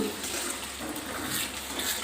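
Continuous splashing pour of water into a pan of tomato egg curry, close and steady with a bubbling hiss, no voices.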